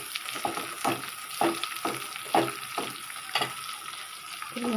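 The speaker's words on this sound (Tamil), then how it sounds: "நல்லா வதக்கணும். இந்த மாதிரி வதங்கினா நல்லா" Food sautés in a pan, a steady close sizzle broken by regular rhythmic scrapes and stirring strokes roughly every half second.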